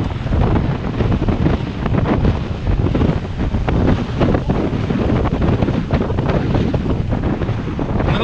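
Strong wind buffets the microphone continuously while riding a trike on an open road, a loud, steady roaring rush with gusty fluctuations and no talking.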